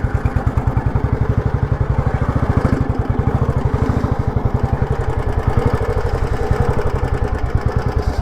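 An old cast-iron Royal Enfield Bullet 350 motorcycle idles close by, its single-cylinder engine thumping in a steady, even rhythm with light mechanical clatter throughout, with no voices.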